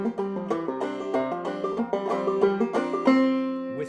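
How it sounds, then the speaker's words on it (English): A melodic phrase played with hammer-ons and drop thumbs, in a half Irish style: quick, clearly picked notes rolling along in a steady, lilting rhythm, close and moderately loud, with no voices. "With the hammer-ons, with the drop thumbs, it would sound like this."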